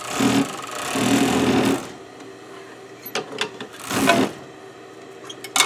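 Sewing machine stitching a stuffed animal under repair, two bursts of rapid mechanical whirring close by, separated by a quieter pause with light clicks.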